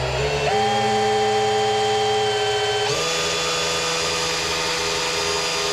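A steady, high-pitched power drill whine runs throughout as the drill turns a Vortec 350 V8 engine in a 1980 El Camino, shifting pitch briefly near the start and again midway, close and loud.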